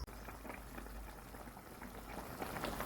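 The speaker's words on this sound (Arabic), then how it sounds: "هاوليك التريده تاعنا راهي تفور" Trida pasta in water bubbling at a steady boil in a pot, a continuous dense bubbling and simmering hiss, close and fairly even throughout with no talk.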